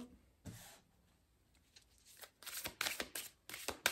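Tarot cards are shuffled by hand, a brief riffle at first, then after a pause a quick burst of flapping, rustling shuffles, close and fairly quiet, with no speech.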